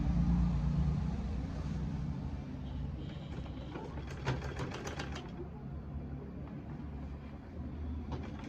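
A sewing machine stitches a pleated fabric turban, a moderately quiet mechanical whir with a rapid rattling burst in the middle, steady hum before and after, and no talking.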